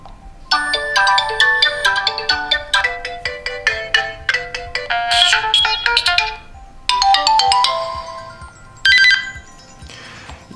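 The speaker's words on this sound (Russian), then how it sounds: "Давайте я вам пару стандартных мелодий покажу" Standard ringtones on a Meizu MX4 smartphone play loud through its speaker as bright chiming melodies, one tune after another with short gaps between them.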